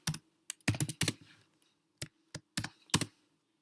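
Code is typed on a computer keyboard in short bursts of close, crisp key clicks with small pauses between clusters, quiet and alone without talk.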